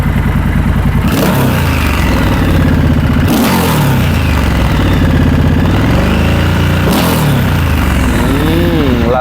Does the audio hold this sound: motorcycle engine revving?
yes